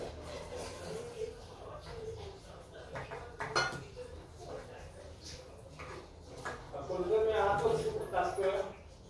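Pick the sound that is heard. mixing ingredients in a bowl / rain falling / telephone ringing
mixing ingredients in a bowl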